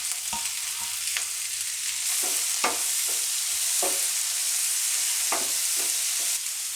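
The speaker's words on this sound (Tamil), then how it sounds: "நல்லா முதல்ல சுண்டக்காய் வணக்கணும்" Turkey berries and tomato sizzle steadily in hot oil, with a spoon scraping and stirring through the pan in repeated sharp strokes over a constant frying hiss.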